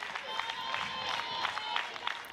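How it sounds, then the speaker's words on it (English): Spectators at a UNC Greensboro versus Clemson women's college softball game cheer and clap for pitcher Thompson, a steady crowd din with scattered claps under commentators talking. "Crowd getting behind Thompson."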